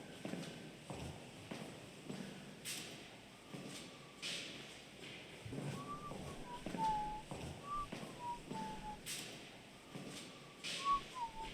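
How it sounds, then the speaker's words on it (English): Faint, wavering whistled notes drift through a quiet night at the old Nevada State Prison, mixed with scattered footstep-like thumps and knocks, the whistling rising and falling in short phrases at a distance. "That's freaking whistling."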